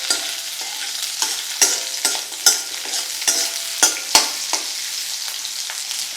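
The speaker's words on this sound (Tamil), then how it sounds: "ஒரு 2 நிமிஷம் வெங்காயம் வதங்கட்டும்." Onions sautéing in a pan, with a steady sizzle and repeated, rhythmic spatula strokes scraping and tapping the pan, close and alone.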